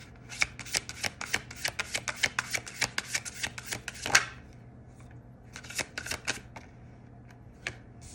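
Tarot cards being shuffled and drawn from a deck during a pick-a-card reading, a quick run of crisp flicking riffles followed by a few scattered slaps and snaps, close and moderate, no talk.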